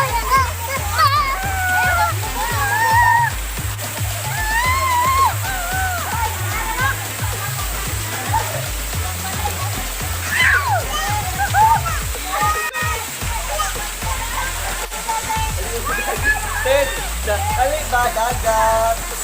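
Water pours and splashes steadily at Sayaw Falls, a constant wash under lively chatter and children's voices throughout.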